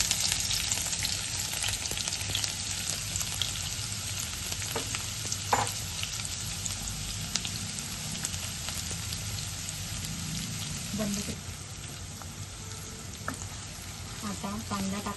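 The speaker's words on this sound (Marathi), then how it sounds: "तेल आता गरम झालेलं आहे, त्यात आपण लांबट कापलेला कांदा घालूया." Sliced onion fries in hot oil for a red sauce pasta, giving a loud, continuous close sizzle and crackle with occasional stirring clinks, and a voice talks briefly over it.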